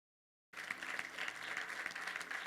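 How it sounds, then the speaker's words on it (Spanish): Applause from a church congregation at a prophetic service in Colorado Springs, starting abruptly after a moment of silence and then continuing as dense, even clapping from many hands. "Aplausos."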